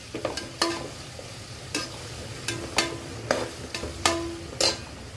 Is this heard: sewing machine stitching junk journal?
no